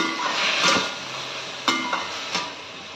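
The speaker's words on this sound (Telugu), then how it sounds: "సో ఇప్పుడు మనం ఈ టమాటోస్ని చాలా బాగా మగ్గనివ్వాలి" Tomato puree cooking down in a pan for tomato khichdi, a continuous soft sizzle with occasional utensil taps and a couple of sharp clicks, close and steady, no voices.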